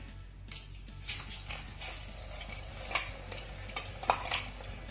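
Blended garlic and ginger paste fries in hot oil in a wok, a faint sizzle broken by repeated spoon scrapes and light metallic clinks.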